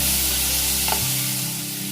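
Chopped tomato and spices (chili powder, turmeric, cumin powder) are mixed in a hot pan for a kidney bean foul, giving a loud steady sizzle with a brief clink of the utensil midway.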